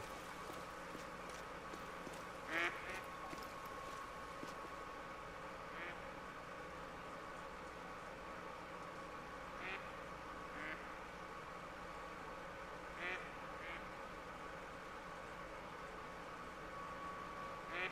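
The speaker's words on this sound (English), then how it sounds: "Where did these ducks go?" Ducks quack in short, scattered bursts against a steady hiss of wind and water in the hunting video game theHunter: Call of the Wild on the Te Awaroa map, sounding faint and distant.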